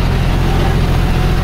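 A John Deere 5310 tractor fitted with a super seeder runs its diesel engine at a steady, even drone, loud and close throughout.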